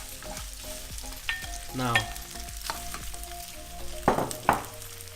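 Fish balls in sweet chilli sauce sizzle and fry in a pan while being stirred, with scraping and clinking of the utensil against the pan coming in irregular bursts over a steady crackle.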